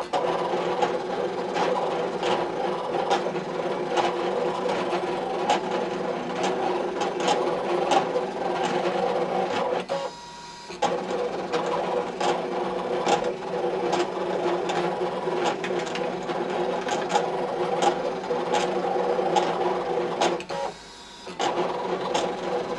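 A cutting machine cuts glitter material with a steady, printer-like mechanical whir and regular clicking ticks throughout, briefly pausing twice as the blade carriage shifts.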